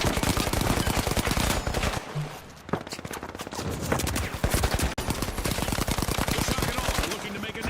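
Turret gunfire from the video game The Finals hammers out in rapid, loud automatic bursts that run nearly continuously, with short gaps and occasional voices underneath.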